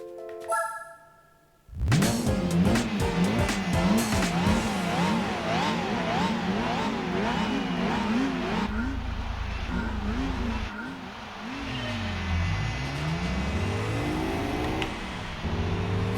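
A racing car engine in the Gran Turismo 4 video game revs up and down continuously, loud and close, with rising and falling pitch sweeps as it shifts through gears, sustained for most of the stretch after a short quiet opening.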